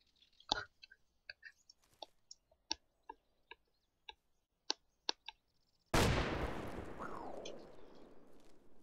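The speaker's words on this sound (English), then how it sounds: "Tin cans make explosions." In the video game DayZ, a sharp, loud explosive blast from tin cans bursts out after a run of scattered small clicks and ticks, followed by a long rumbling decay.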